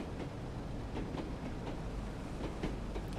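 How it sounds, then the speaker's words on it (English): A train rolls along a slow branch railway in Train Sim World 2, with a steady rumble and a faint rhythmic clickety-clack of wheels over rail joints. It runs continuously at moderate level with no talk. "Slow little railway, this one."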